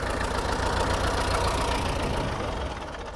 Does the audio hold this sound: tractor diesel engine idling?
yes